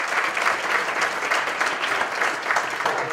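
An audience at a national living statues contest show and awards ceremony applauds a crew member, the clapping dense and continuous at a fairly close, moderate level, with no talk over it.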